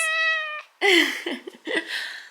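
Indoor house cats give several clear, drawn-out meows in quick succession, one long tonal call followed by shorter, rising and falling cries, close and fairly loud.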